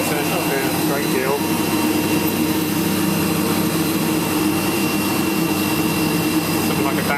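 A 3 horsepower HVAC compressor runs in a steady, loud mechanical drone with a constant hum and no pauses.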